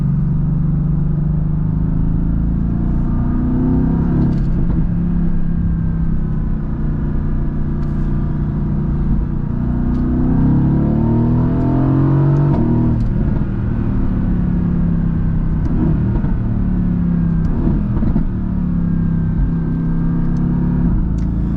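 A 2017 Mercedes-AMG GT V8 engine rumbles loudly from inside the cabin on a backroad, rising in pitch through several gear changes as it accelerates.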